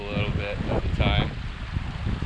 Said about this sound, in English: Still a little bit windy right now.